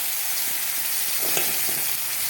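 Ground spice paste of onion, garlic, ginger, cumin and dried chilli hits hot oil for a fish curry, giving a steady close sizzle with a few stirring scrapes partway through.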